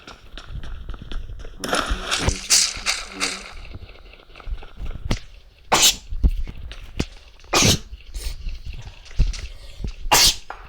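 Several sharp, loud sneezes burst out one after another, separated by short pauses, with people talking in between.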